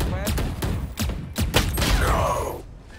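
Gunfire in Valorant, a tactical shooter match: a rapid burst of sharp shots with thuds in the first half, then a rising whoosh of effects, with voices talking through it.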